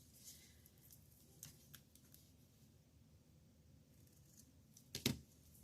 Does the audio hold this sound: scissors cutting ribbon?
yes